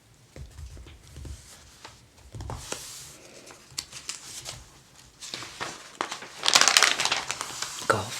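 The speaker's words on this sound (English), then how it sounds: "That page turning is really loud because of how stiff the pages are." Stiff glossy pages of a 1970 JC Penney summer catalog being turned, giving loud close rustles, crinkles and flaps that swell near the end, with no talk.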